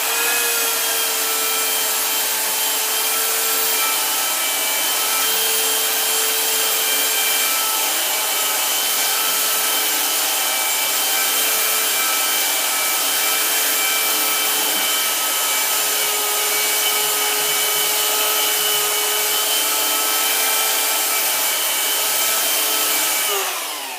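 Sanding a carved wooden sign with 50 grit sandpaper, likely with a power sander: a steady, loud, continuous whirring hum with a harmonic drone, running unbroken for the whole stretch with no talk.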